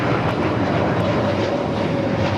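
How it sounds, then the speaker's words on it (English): A Hawaiian Airlines Airbus A321neo on its takeoff roll at LAX, a steady, loud broadband jet engine roar with no pauses. "This is Hawaiian Airlines Flight 63 taking off to Lihue on the A321neo."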